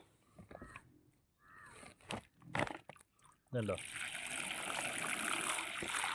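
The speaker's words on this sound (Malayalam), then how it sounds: "ചാക്ക് വെച്ചിട്ട് ചാക്കിലേക്കാണ് വെള്ളം ഒഴിക്കുന്നത്." Water is poured slowly onto a sack laid in a muddy lotus pond in a garden. Faint, scattered handling noises and a voice come first, then a steady, soft gushing splash that continues to the end.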